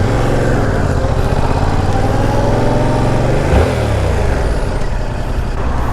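A motorcycle engine runs loud and close for about six seconds, a steady dense drone with a brief swell midway; the first ride on a bike with clip-on handlebars.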